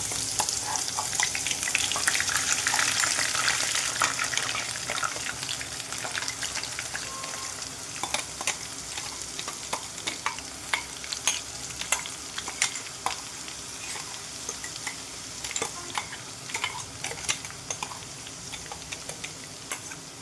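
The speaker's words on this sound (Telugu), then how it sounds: "మంచిగా ఫ్రై అయ్యేంత వరకు అయితే ఫ్రై చేసేసుకోవాలి" Steady crackling sizzle of onion paste frying in hot oil for chicken gravy, with scattered sharp pops and occasional stirring clicks, close and continuous with no talking.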